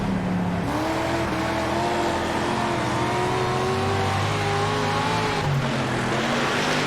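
A dirt track racing car in the World of Outlaws video game roars steadily from the cockpit view, its engine note climbing and shifting under constant loud rumble, with no talk.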